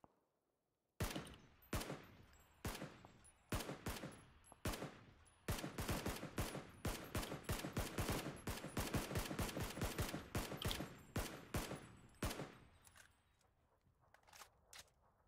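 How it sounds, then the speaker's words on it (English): Gunfire in a shooting video game: a long burst of sharp, close shots in a fast, uneven rhythm that lasts over ten seconds and thins to a few scattered shots at the end. "Somebody shooting at me."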